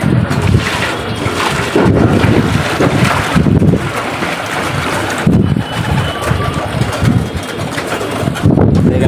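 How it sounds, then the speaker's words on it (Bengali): Pigeons coo and flutter close by, drinking water in hot weather, mixed with gusts of wind buffeting the microphone and a steady outdoor rumble. "কবুতর পানি খাওয়ার জন্য ক্লিন করতেছে কবুতরগুলো"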